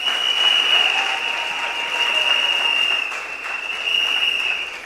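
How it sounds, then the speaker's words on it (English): Audience in an event hall applauding presented candidates at a slate launch, a sustained, fairly even round of clapping with a steady high electronic whine running through it. "A round of applause, friends,"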